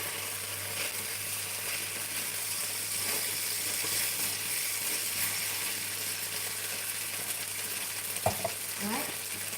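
Rice noodles stir-fry over high heat in a pan with a steady, bright sizzle and scraping stirs, plus a sharp metallic clink near the end and no speech.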